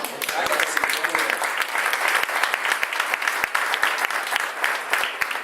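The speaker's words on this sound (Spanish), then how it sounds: "Pero un aplauso al Señor." A church congregation claps steadily during a Spanish-language sermon on Daniel's seventy weeks, a dense, even wash of applause with sharp individual claps standing out throughout.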